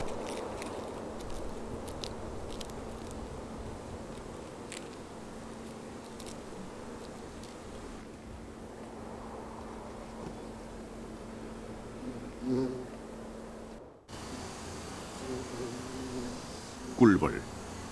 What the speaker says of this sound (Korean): 꿀벌, 학명은 아피스 멜리페라.